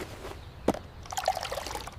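Water trickles and splashes briefly into a container for a puppy, a short pour with small bubbling drips close by.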